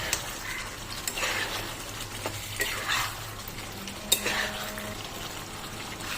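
Jackfruit and prawn curry with coriander leaves being mixed in a pan, a soft wet sizzle with scraping stirs and occasional utensil taps against the metal, steady and close.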